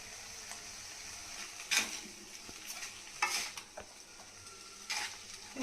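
Noodles tossed and mixed with soy sauce and ketchup in a pan make a soft background sizzle broken by three sharper bursts of scraping and clattering, fairly quiet overall.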